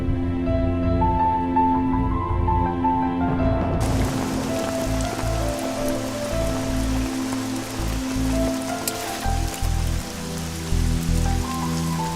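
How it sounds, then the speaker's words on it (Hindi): Steady rain patters on surfaces and grows heavier partway through, with a low hum underneath and no talking. "बारिश भी थोड़ी कम हो गई है"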